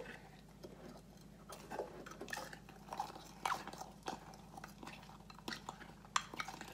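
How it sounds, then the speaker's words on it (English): A spoon stirs vanilla into chocolate mug cake batter, giving soft scraping clinks against the mug in an irregular run of small taps, close and fairly quiet, with no voices. "All right, we'll mix in our vanilla."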